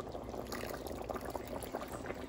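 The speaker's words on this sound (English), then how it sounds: "I'm gonna add water" Water pours steadily into a pot, a continuous splashing gush with bubbling, heard close with no talking.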